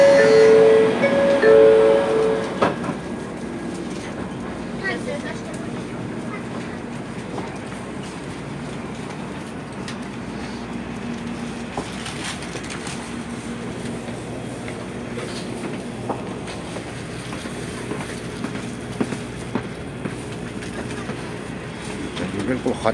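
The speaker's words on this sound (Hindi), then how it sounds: "बिल्कुल खाली जा रही है ट्रेन।" Train running on rails at a Tokyo railway station, a steady rolling rumble with faint clatter that carries on throughout at moderate distance, with a brief tonal sound near the start.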